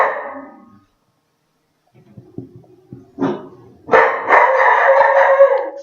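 A dog indoors howls near the microphone, opening with a drawn-out howl, then a few soft knocks and yips, and finally a loud, sustained, wavering howl-bark that runs to the end.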